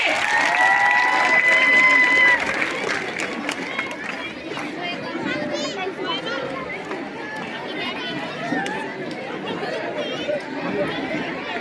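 Sustained audience applause and crowd chatter at a school annual function, a broad wash of clapping and murmuring voices that fills the space, with a whistle-like tone early on.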